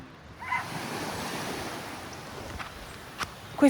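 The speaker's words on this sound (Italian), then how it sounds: "Questo è il rumore del mare che da qui realmente non si sentirebbe perché è là in" Sea waves roll and wash in the distance, their sound echoing off rocks as a steady windy surf roar with small knocks and scuffs nearby, with no speech.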